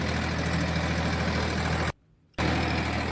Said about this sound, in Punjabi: ਆਪਾਂ ਵੀ ਚੜ ਗਏ ਟਰੈਕਟਰ ਤੇ